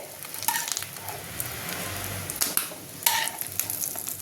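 Rohu fish roe crackles and sizzles in hot oil, with sharp pops and occasional clatters of a utensil against the pan, close and continuous.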